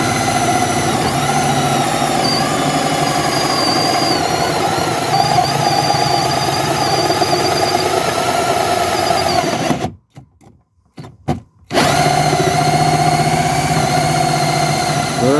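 A power drill bores a hole through a car's under-engine cover, a steady loud whine running continuously, then cutting out briefly before resuming at the same pitch.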